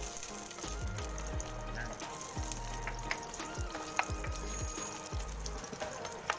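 Garlic sautéing in a pan, a soft steady frying hiss with repeated low spatula scrapes and stirring knocks at a fairly even pace, quiet overall.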